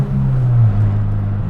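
A loud Honda Civic EG6 engine gives a heavy, steady low drone at close range, continuous and unbroken for the short stretch.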